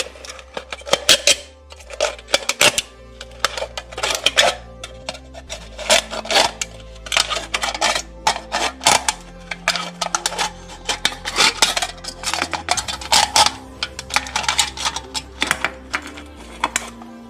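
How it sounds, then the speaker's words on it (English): Rapid, irregular metallic snipping and crunching, close up and continuous, as cheap scissors trim all the way around a thin metal can while making a penny can stove. "So I'm going to take my scissors, cheap scissors here. I'm going to take this and just trim all the way around."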